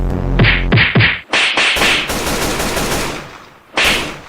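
Rapid bursts of loud video-game gunfire from a game-jam shooter, several sharp shots followed by a sustained automatic volley that cuts off and then resumes briefly, heard alone without talk.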